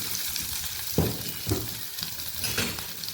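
Onion frying in hot oil in a kadhai, a constant sizzle with a few soft stirring knocks and clinks from close by.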